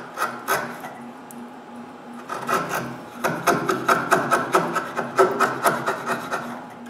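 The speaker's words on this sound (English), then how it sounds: "When the dovetail is cut, I remove a little bit of wood to create a small shoulder along the edge of the dovetail." A hand tool removes small bits of wood to shape the shoulder of a dovetail joint, producing close, rhythmic rasping strokes, sparse at first and then a steady run of repeated scrapes.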